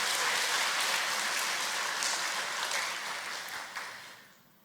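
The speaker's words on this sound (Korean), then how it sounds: "뜨거운 위로의 박수 부탁드리겠습니다." Applause from a church congregation during a Sunday afternoon worship service, a dense patter of many hands filling the room and then fading out toward the end.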